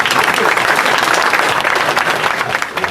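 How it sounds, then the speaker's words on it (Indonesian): Dense applause from an audience at a talk show, steady and loud throughout, with some voices mixed into the clapping. "Tepuk tangan untuk Mas Wildo."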